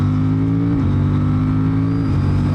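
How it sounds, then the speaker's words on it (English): Steady, buzzy engine note from an Aprilia Tuono 457 motorcycle ridden on dry roads in Austria, accelerating while short shifting, with two clear pitch drops at the gear changes. "I'm just short shifting and having a little bit of fun here in Austria."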